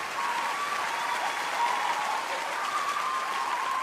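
An audience applauds in a steady, even wash of clapping that holds throughout without any clear cheering voices.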